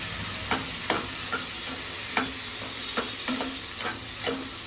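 Finely chopped tomato and onion are stirred in a pan for a stuffing, with a soft scraping and sizzling bed broken by repeated spoon strokes at an uneven rhythm, fairly quiet and with no talk.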